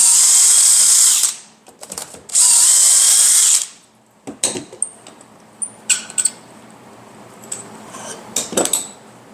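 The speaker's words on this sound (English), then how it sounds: "so let's drill the holes" A power drill bores dowel holes with a Dowelmax 45-degree miter jig, giving two steady high whines of about a second each. Light clicks and handling knocks of tool and wood follow.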